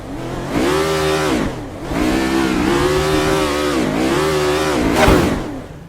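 A Formula 1 car in the Assetto Corsa racing game, parked at the end of the pit straight, revving hard in three long surging bursts with a rising and falling high-pitched engine wail and brief drops between.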